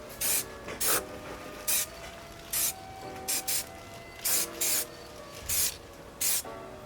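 Short bursts from an aerosol can spraying a thin first coat of gloss black onto Ford Fiesta ST Mk6 rear reflectors: about a dozen sharp hissing puffs, close and loud, spaced unevenly with brief pauses between.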